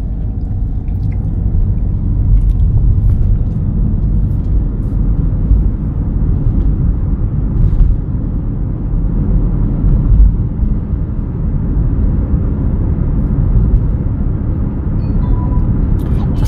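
A car drives on a road-test course at a driving licence test site. Low engine and road rumble run steadily throughout, with occasional faint clicks, and no one speaks.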